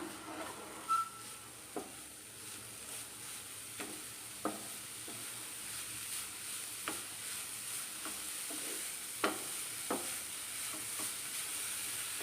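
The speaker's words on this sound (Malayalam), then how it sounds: "ഇനി നമുക്കിത് ഒന്ന് ഇളക്കി കൊടുക്കാം." Food sautéing in a pan over a high flame, a quiet steady sizzle punctuated by occasional sharp scrapes and taps of a stirring spoon against the pan, close but faint.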